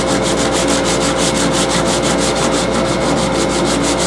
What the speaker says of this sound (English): I'm using a great big block of wood with some sandpaper on it, some pretty rough, coarse sandpaper